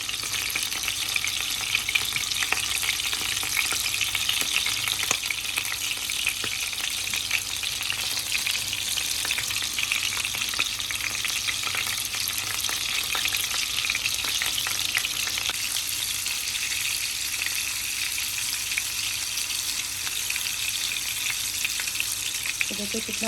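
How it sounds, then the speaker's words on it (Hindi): Egg masala kababs fry in hot oil over medium heat, a steady dense sizzle that runs unbroken and close for the whole stretch, with faint stirring and no talking. "मीडियम आंच पे हमें इनको फ्राई करना है।"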